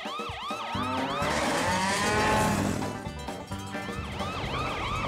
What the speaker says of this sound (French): mets la sirène en marche